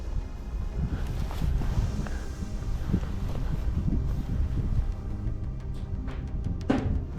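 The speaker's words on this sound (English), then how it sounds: "an air shaft, which blows a hot wind compared to the outside" Hot wind blows steadily out of a deep air shaft in an old quarry, a constant low rushing roar with faint scattered knocks, close and unbroken throughout.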